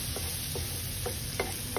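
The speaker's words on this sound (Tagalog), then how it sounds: "Gisahon na to ang garlic una guys." Garlic sautés in a hot pan for creamy garlic bacon pasta, a soft steady sizzle with a few faint ticks and stirring scrapes from the utensil.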